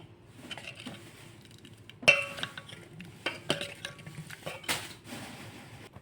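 A spoon stirs and mixes cut raw mango pickle spiced with a cinnamon piece and cloves in a bowl, giving quiet scraping and several distinct clinks and knocks against the vessel at an uneven pace.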